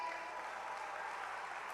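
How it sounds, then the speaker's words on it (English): Audience applause at a panel event, a faint, steady wash of clapping from the crowd lasting a couple of seconds. "Round of applause for yourself."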